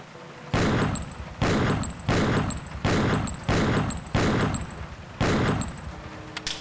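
Gunfire in Killer 7 rings out as seven loud, evenly spaced shots, each with a sharp attack and a ringing decaying tail, alone without speech.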